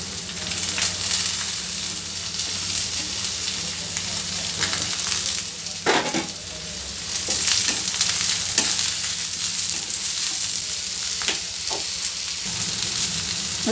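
Mutton chops in masala with dry coconut, mint and coriander fry in a pan with a steady close sizzle and crackle, broken by occasional scrapes and stirring clatter, with no voices.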